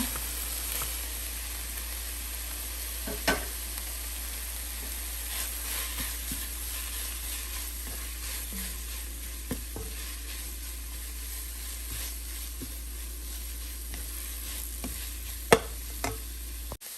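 Grated, squeezed bottle gourd fries in a pan for a squash paratha filling, giving a steady continuous sizzle with occasional soft taps and scrapes of a spatula stirring it, with no talking.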